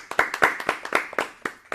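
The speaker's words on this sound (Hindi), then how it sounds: "तो एक बार उनके लिए जोरदार तालियां।" An audience claps for a young badminton player guest at a children's programme, a loose, uneven burst of sharp individual handclaps from a small crowd, close and fairly loud, with no speech.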